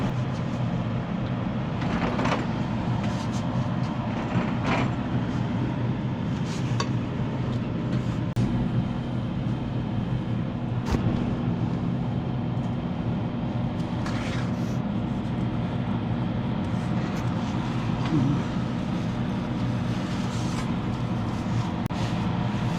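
Hand sanding a black walnut salad bowl in a workshop, a steady broadband scratching rasp running without pause, with a low constant hum from an exhaust fan beneath.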